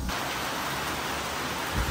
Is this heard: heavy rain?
yes